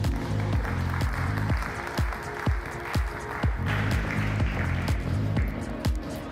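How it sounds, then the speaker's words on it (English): Conference audience applauding as a panel takes the stage at a Bitcoin event, steady clapping under a loud rhythmic music beat with thumping bass. "please welcome up with a big, loud, incredibly loud round of applause"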